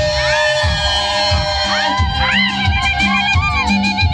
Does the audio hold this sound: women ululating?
yes